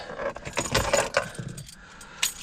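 Car keys jangle and clink in a series of bright metallic rattles inside a 2012-2019 Kia Soul, fairly close and loud, with a last short jingle near the end and no talking.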